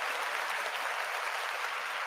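Steady applause from a crowd, dense clapping that holds evenly throughout the short clip.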